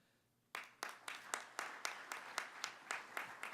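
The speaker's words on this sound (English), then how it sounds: "Give them a round of applause." Faint clapping from an audience at an event starts after a short quiet moment, then continues as a series of evenly spaced, fairly distant claps in a steady rhythm.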